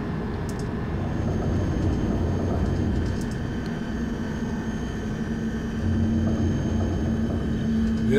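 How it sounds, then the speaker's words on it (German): In the Train Simulator Classic video game, a train rolls along with a steady low rumble over track crossings and switches, with faint clicks and knocks riding on the continuous rolling noise. "dieses Rumpeln über die Gleiskreuzungen und Weichen ist, finde ich, total gut gemacht"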